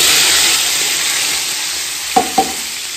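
Onions, green chillies and tomatoes fry in hot ghee with a steady, close sizzle, broken by two short stirring clatters near the end.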